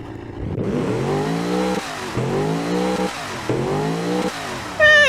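Australian V8 Supercar engine in BeamNG revving hard in three rising pulls, each climbing in pitch before cutting off sharply, loud and close with no talk.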